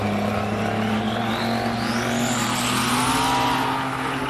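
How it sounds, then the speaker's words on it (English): A turbocharged BMW V8 race car accelerates hard up a hill climb course, its engine droning loud and continuous with rising pitch as it pulls away, heard alone without talk. "Sav Gualtieri trying to keep 70 million horsepower down on the ground in a very, very interesting BMW turbo V8"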